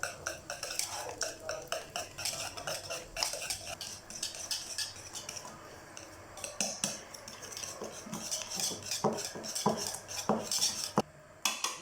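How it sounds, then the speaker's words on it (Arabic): A spoon stirs a hot cream mixture of butter and vanilla in a bowl, making rapid, close scraping and clinking strokes against the sides in an uneven rhythm, with no talk. "ونخلطو وهي سخونة كيما هكا"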